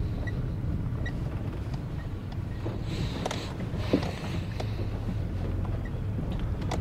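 Steady wind of about 7 to 10 metres per second rumbles and buffets the microphone in Buryatia, a constant low roar with faint clicks and rustles over it.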